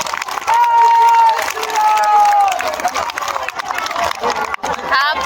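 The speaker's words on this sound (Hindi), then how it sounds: "एक बार पुनः जोरदार ताली बजाइए मेरे भाई" A large crowd at a Hindu religious discourse during the final day of a pilgrimage walk in the Braj region claps and cheers loudly and steadily, with raised voices ringing above the din throughout.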